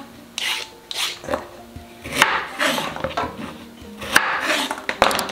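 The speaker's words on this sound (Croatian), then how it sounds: "Najpre 2 šargarepe koje ćemo da oljuštimo." Two carrots being peeled with a peeler for a soup, heard as a series of separate scraping strokes, each a short rasping rub, at close range with no talking.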